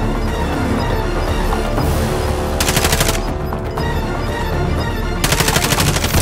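Rapid automatic gunfire rattles through a firefight in the video game Rebirth, with continuous shooting and two louder, sharper bursts of close fire standing out over the steady barrage.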